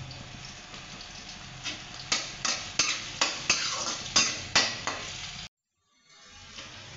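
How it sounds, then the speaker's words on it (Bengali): Garlic and chopped green chilli stirred in a little oil in a wok, with a run of sharp spatula scrapes and knocks against the metal over a soft sizzle, then a brief silence before the frying resumes. "কড়াইয়ের মধ্যে অল্প তেল দিলাম, তারপরে রসুনটা দিলাম, তারপরে কাঁচা লঙ্কা কুচানোটা দিলাম। এখন এটাকে নাড়াচাড়া করে নেব।"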